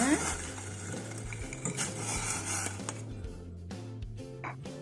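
Palm sugar being stirred into 500 ml of boiling water in a pot on the stove, with a busy run of clattering spoon-on-metal scrapes and knocks; a voice is faintly present at times.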